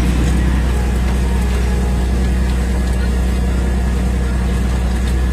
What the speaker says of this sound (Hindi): इंडिया का मस्त नंबर वन ट्रैक्टर है ये।